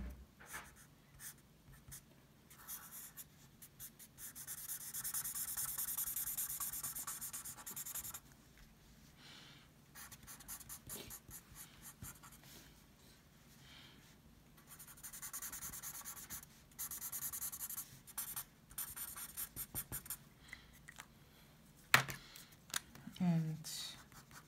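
A pencil drawing and hatching a manga picture on paper, with long stretches of close, soft scratching strokes and rubbing, some bursts of quick hatching, quiet and intimate throughout.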